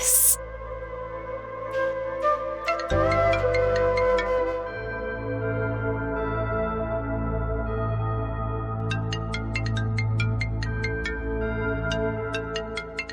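A mobile phone ringtone plays a steady electronic melody with repeating tonal phrases and bright chiming notes, loud and close, with no voices over it.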